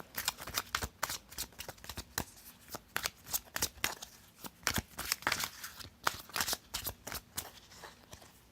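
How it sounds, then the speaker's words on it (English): A tarot card deck shuffled by hand in close, crisp bursts of riffling and flapping card edges, uneven in rhythm with brief pauses between shuffles, heard alone without talk. "I tried to shuffle again and more started to fly out"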